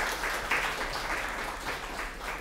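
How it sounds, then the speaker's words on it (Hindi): A studio audience on a Hindi television debate show applauds, continuous steady clapping at even loudness through the short stretch, with no voices. "तो जरा जोरदार तालियां हो जाए मेहमानों के लिए"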